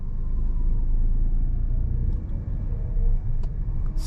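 Low, steady engine rumble from a 2024 Citroen C5 Aircross 48V mild hybrid with a 1.2-litre PureTech petrol engine and electrified dual-clutch automatic as it pulls away at night, heard from inside the cabin with no talk.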